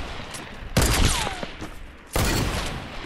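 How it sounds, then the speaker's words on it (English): Gunfire in a Fortnite battle royale match, two heavy bursts of sustained shooting separated by a brief lull, loud and close over a constant noisy game background with no talk. "If he hits a shot and I don't."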